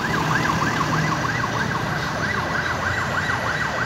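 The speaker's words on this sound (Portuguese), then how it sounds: "Bombeiro chegando, mais bombeiro." Wailing fire truck siren arriving at a burning school, its rising and falling tone loud and continuous over steady traffic and street rumble, with a second siren layered in.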